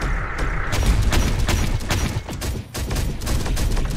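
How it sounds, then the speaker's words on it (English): Enemy gunfire in the video game Terminator: Dark Fate - Defiance, a sustained barrage of shots and booming impacts, loud and close, with a brief dip before firing resumes. "Enemy fire!"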